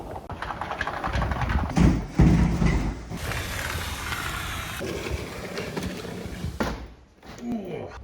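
A sliding door rolls and grinds along a worn track, giving a rough, scraping rumble with a few heavier knocks partway through, fairly close and loud, ending in a brief drop to quiet.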